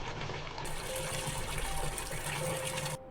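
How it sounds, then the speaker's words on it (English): Water gushes steadily into a drum as 200 liters are filled for a soil-based organic biofertilizer mix, a continuous close rushing pour that cuts off abruptly near the end. "Fill the drum with 200 liters of water"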